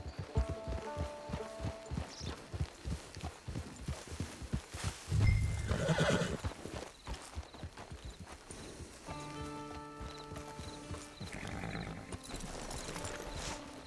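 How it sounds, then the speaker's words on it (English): A horse in the Red Dead Redemption video game clip-clops steadily at a walk and lets out a loud, rising whinny partway through, with faint background music and no voices. "It's your horse."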